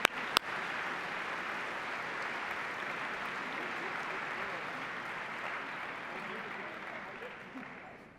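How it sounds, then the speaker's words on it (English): Steady audience applause fills an awards ceremony hall at a national science bowl, dense and continuous from start to finish after a brief sharp knock at the opening. "Let's give him a nice round of applause."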